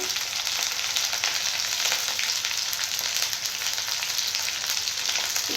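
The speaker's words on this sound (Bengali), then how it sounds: "দিয়ে ভালো করে এইভাবে নেড়ে চেড়ে নেব" Chilli chicken curry with capsicum and biryani masala sizzles loudly in a pan while being stirred, a continuous, dense frying hiss with no talk.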